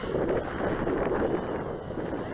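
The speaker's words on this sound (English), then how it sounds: "the wind is picking up" Wind rushes steadily across the microphone outdoors in the early morning, a low buffeting roar with faint rustling and no voices.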